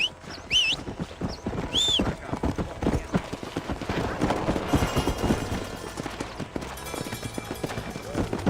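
Horse hooves clip-clop in the western video game Red Dead Redemption, a rapid steady gallop running throughout, with a couple of brief high whistling calls near the start.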